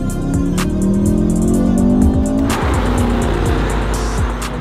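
A Mercedes E63s in race mode accelerates hard with a loud, rising engine roar, then brakes sharply as the revs drop away and the tires briefly chirp, all close and without talk.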